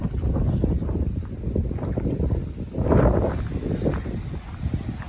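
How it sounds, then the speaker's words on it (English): Strong wind at a coastal campsite at Whitecliff Bay, Bembridge, on the Isle of Wight, roars and buffets the microphone as a constant low rumble. One gust swells louder midway through, and no one speaks. "Very windy day today."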